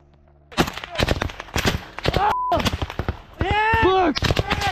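Rapid machine gun and rifle fire in a combat firefight cracks loud and close in fast clusters, mixed with shouting voices throughout.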